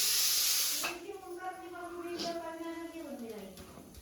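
A pressure cooker whistle shrieks as it releases steam in a home kitchen, a loud hiss that settles into a wavering whistling tone lasting several seconds.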